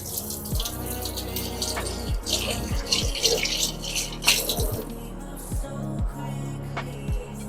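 Hands are washed under a running kitchen tap, with steady splashing water broken by irregular rubbing and splatter as the hands move through the stream, close and continuous.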